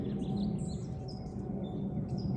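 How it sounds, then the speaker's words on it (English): Birds chirping and tweeting outdoors in short high calls over a steady low rumble of background noise. "If I don't think about it, all I hear is the birds."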